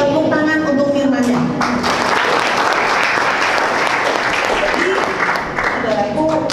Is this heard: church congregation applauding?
yes